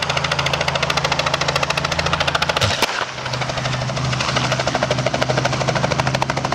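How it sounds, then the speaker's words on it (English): A helicopter's rotor and engine chop loudly and steadily, with a rapid rhythmic beat and a low drone, close to the listener. The sound drops briefly near the middle and then resumes at full strength. "Despite that, the helicopter landed safely."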